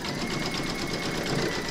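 An embroidery sewing machine stitching an in-the-hoop heart banner, a steady, fast mechanical hum with a rapid even stitching rhythm, close and continuous without speech.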